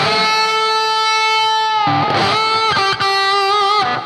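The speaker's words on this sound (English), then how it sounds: "You can also do a lot with the volume control on the guitar and get different tones out of it too." A sustained, distorted electric guitar note rings out, tone shaped with the guitar's volume control, then changes into several new chords and tones, loud and close with no talking.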